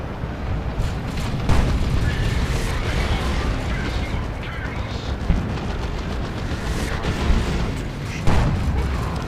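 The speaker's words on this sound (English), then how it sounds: "Some big Tzeentch shots at this looted tank" Heavy impacts and booming shots from Tzeentch units striking a looted tank in a Warhammer strategy game, a dense rumbling battle din with a few sharper bursts standing out.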